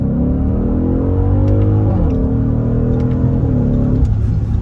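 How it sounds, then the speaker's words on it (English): An Audi SQ8 engine revs hard and close, pitch climbing then dropping at each upshift, a steady loud drone with faint exhaust crackles on the upshifts. "the upshifts, you get a real nice crackle and pop"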